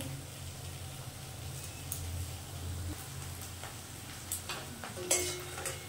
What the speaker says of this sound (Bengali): এভাবে আমি সমস্ত বড়াটা ভেজে নেব।